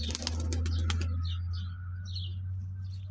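Low, steady cooing of a female pigeon, with a few quick chirps and clicks over it early on.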